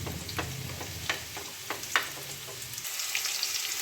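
Onion, garlic and potato sizzle steadily as they fry in a pan, with a few short scraping clicks of stirring, close and moderately loud, no voices.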